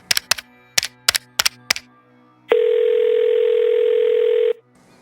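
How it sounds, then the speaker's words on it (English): Telephone receiver picked up and a number dialed: a few sharp clacks of handling, then a steady, loud dial tone holding for about two seconds before cutting off, no voices. "Lifting the telephone to her lap, she picked up the receiver and dialed a number."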